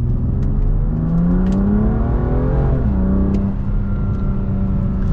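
A BMW M2 Competition in its Sport Plus setting, with traction control on, pulls hard under acceleration. The engine note climbs loud and close through the gears, dropping briefly at a shift before rising again.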